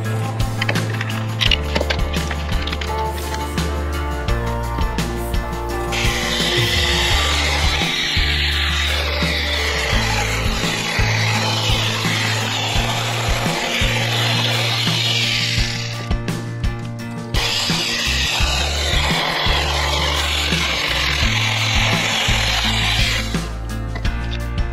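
A SeeSii battery-powered mini chainsaw cutting through a 3 to 4 inch diameter log, a buzzing motor with rough rasping chain bite in two long cutting passes, close and loud.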